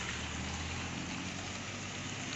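Heavy, continuous rain pours steadily over the hills near Haldwani in Uttarakhand, along the mountain road from Kathgodam through Chorgalia to Sitarganj, forming an unbroken, dense hiss with no voices.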